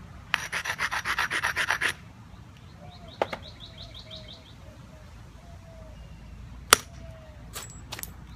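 A chalky stone edge is rubbed with a rasping, rhythmic abrading stroke during knapping, about a dozen quick close scrapes, followed by quiet outdoor ambience with birds chirping and a few sharp clicks.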